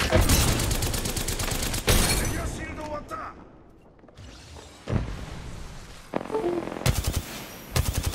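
Enemy gunfire in the Apex Legends video game crackles in rapid automatic bursts, some loud and close, with pauses between volleys and a voice talking over parts of it.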